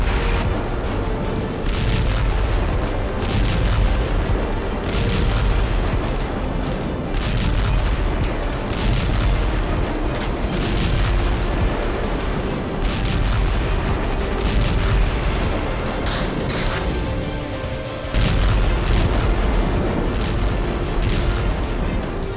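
Explosions and artillery fire from the Russia-Ukraine war thud and boom repeatedly over a dense, continuous rumble, with sharp bursts recurring throughout.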